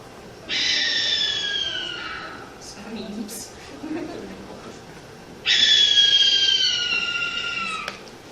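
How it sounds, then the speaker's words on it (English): Two long, harsh, hissing screeches from a barn owl, each lasting a couple of seconds, separated by a quieter pause with faint background noise. "But not all owls hoot, right? This is the barn owl"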